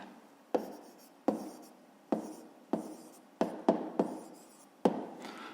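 A pen writing an answer in a notebook during a fifth-grade maths exercise: seven or eight short, close scratchy strokes separated by quiet pauses, soft and alone.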